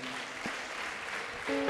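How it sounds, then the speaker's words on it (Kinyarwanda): A church congregation at prayer claps together for God, a steady, fairly soft patter of many hands that continues without pause. "reka dukomere Imana amashyi"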